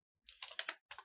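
Typing on a computer keyboard, a quick burst of several close keystrokes, a short pause, then two more clicks, crisp and near with no talk.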